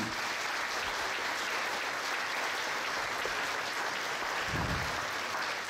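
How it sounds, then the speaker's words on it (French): Dense, steady applause from an audience fills the room, a continuous wash of many hands clapping at an even level throughout, with a brief low thump near the end. "je vous demande de les applaudir."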